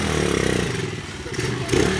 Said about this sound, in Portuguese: Consegui andar com a moto, né?